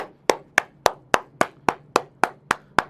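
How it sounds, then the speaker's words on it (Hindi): Students in a basic math class clap in crisp, perfectly even unison, about ten sharp beats in a brisk steady rhythm, loud and close, with no talking. "आप लोग सब लोग तालियां बजाइए प्लीज,"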